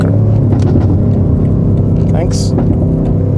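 A BMW M5 Competition accelerates hard on a slow country road to pass a tractor, its engine rumbling loud and close from inside the cabin, with speech over the steady drone.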